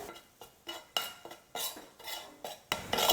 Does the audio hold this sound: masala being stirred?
yes